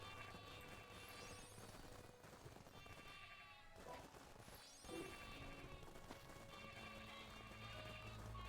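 Sheep in the Craftopia video game running and bleating, game bleats rising over a dense layer of game sound effects and background music, moderately loud throughout.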